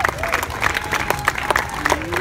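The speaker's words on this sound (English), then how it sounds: "Guys, I see like half of you clapping" A tour group at Faneuil Hall in Boston gives scattered, uneven clapping for about two seconds, with sharp claps mixed into crowd murmur and chatter close by.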